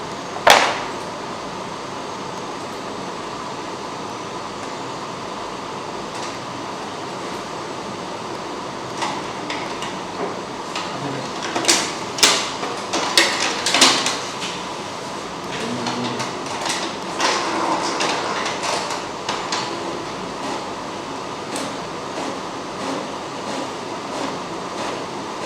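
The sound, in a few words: printer printing a test page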